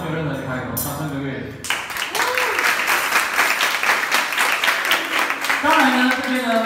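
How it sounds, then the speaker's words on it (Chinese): An audience of schoolchildren and teachers at a motivational school talk breaks into loud sustained applause after a brief spoken line, the clapping filling the room for several seconds. "掌声鼓励"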